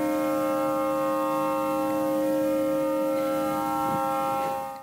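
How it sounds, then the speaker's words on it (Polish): A steady, droning air raid siren tone holds throughout, loud and unbroken, sounding in the open at Westerplatte in Poland. "Dziś w tym miejscu także zawyły syreny."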